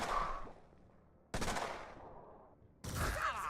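Gunfire from a twitch shot in the video game Mutant Year Zero: three loud, sharp blasts about a second and a half apart, each trailing off in a decaying echo.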